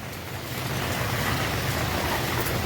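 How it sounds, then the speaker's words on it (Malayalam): Rainwater pours down from higher ground onto a flooded service road beside the NH66 highway in heavy rain, a loud continuous rushing wash with wind buffeting the microphone. "ഫുള്ള് വെള്ളം മുകൾ ഭാഗത്തു നിന്ന് ഇങ്ങോട്ട് താഴത്തേക്ക് ഇറങ്ങാണ്"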